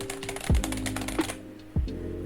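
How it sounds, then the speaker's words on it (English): Rapid clicking of keyboard keys, steady and close, with a couple of heavier thumps mixed in, fading out near the end. "here is my keyboard sound. Listen."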